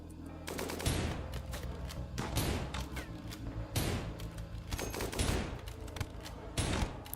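Bursts of gunfire from colonists in the game RimWorld, with several sharp volleys of rapid shots spaced a second or so apart, loud and dense, with no talking.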